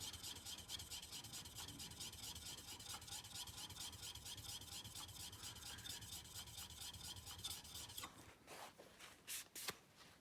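A Harbor Freight chisel is rubbed back and forth flat on a coarse sharpening stone, making a faint, continuous rasping scrape. A few louder knocks and shuffles follow near the end.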